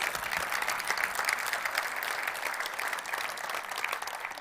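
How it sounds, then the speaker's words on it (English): Conference audience at JSConf Iceland in Reykjavik claps together in steady, dense applause, filling the room evenly from start to finish without a break. "So give them a round of applause."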